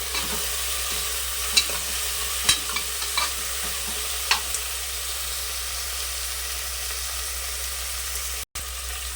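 Green chilli is stirred into a sizzling mushroom biryani masala in a pan. A soft, steady frying hiss carries a few sharp spoon scrapes and clicks throughout, with no voices.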